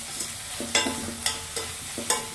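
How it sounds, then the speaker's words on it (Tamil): Chicken masala fries in a pan with mint oil being stirred in. A soft, continuous sizzle runs under it, and four spaced, sharp scrapes of the spoon against the pan sound up close. "புதினா எண்ணெயை போட்டு நல்லா கலரணும்."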